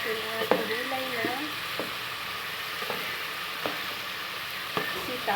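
String beans and other vegetables hit hot oil in a frying pan with garlic, giving a steady close sizzle with sharp utensil taps and scrapes as they are stirred.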